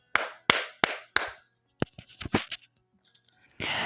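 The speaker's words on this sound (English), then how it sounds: "Mira gasps and stands up, clapping her hands together." Four sharp hand claps in quick, even succession, close and crisp, followed by a few softer taps and a brief rustle.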